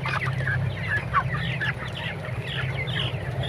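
Several broiler chickens, about 24 days old, cluck and chatter continuously at close range, a busy flock with no talking over the steady low hum of the shed.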